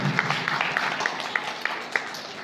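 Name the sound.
audience applauding at an event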